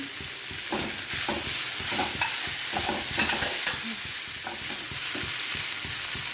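Vegetables sizzle and fry steadily in a pan, with repeated scraping and stirring clatter from a spoon, close and continuous with no talking.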